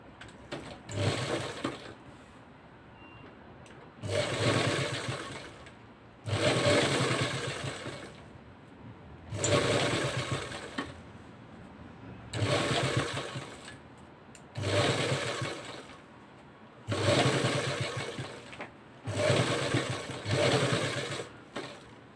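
Sewing machine stitching piping onto the collar neck of a blouse, running in repeated bursts of a few seconds each with short pauses between, close and alone without speech.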